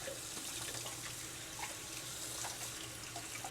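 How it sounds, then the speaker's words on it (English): Tap water runs steadily over frozen spinach in a colander, a continuous close hiss of streaming water with faint splashes and no voices. "I'll put it in a colander and run some water in it."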